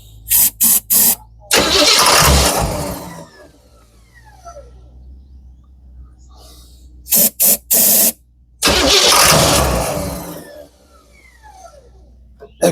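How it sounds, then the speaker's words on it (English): A Ford Model A engine that is running hot tries to catch in short, sputtering bursts, then roars roughly for a couple of seconds before dying away. The pattern repeats, loud and close, with no talking. "That car does not sound good."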